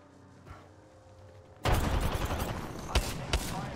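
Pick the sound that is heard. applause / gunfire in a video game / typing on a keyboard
gunfire in a video game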